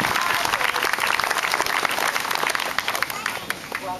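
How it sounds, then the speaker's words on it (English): A crowd at a September 11th event in Marine Park claps and cheers steadily throughout, a busy wash of applause with some voices mixed in. "Give them a round of applause, ladies and gentlemen"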